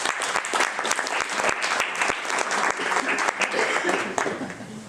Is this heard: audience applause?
yes